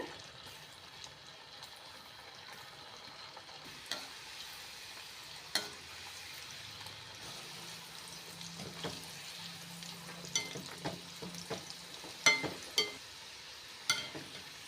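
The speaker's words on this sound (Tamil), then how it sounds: "இப்போ நம்ம இதை எண்ணெயில் பொறிச்சு எடுத்துக்கலாம்" Parotta deep-fries in hot oil over a medium flame with a soft, low bubbling. Occasional sharper crackles and clinks pop up, mostly toward the end.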